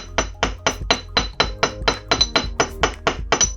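A jewellery hammer taps wire for a hammered wire-wrapped pendant, about fourteen crisp, evenly spaced strikes at a steady rhythm, close and distinct with nothing else heard.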